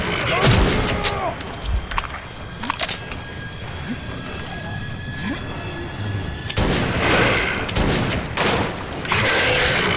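Rapid gunfire bursts and sharp single shots crack up close in the video game Metro 2033, with French voices shouting between the volleys and a steady noisy background throughout.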